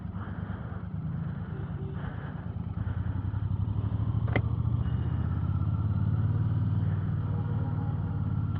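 Royal Enfield 650 twin motorcycle ridden through city traffic, its steady engine rumble and low throb rising slightly partway through and holding close and continuous, with no talk over it.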